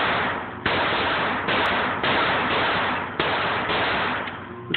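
A Walther P22 pistol fires a rapid, continuous string of loud, close shots with no pauses, outdoors at a shooting session.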